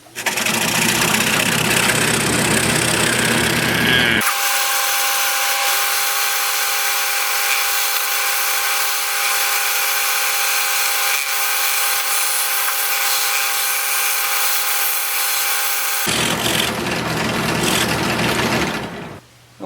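A scroll saw fitted with a number 5 reverse tooth blade cuts out a Halloween pumpkin pattern, giving a steady, loud mechanical buzz with a constant hum that runs unbroken throughout.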